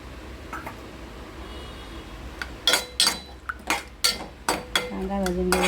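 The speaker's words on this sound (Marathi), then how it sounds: "कांदा भाजून घेऊया" Onion fries in oil in a pan while a spoon stirs it, making about eight sharp metallic clanks against the pan over a soft sizzle. A voice begins speaking at the very end.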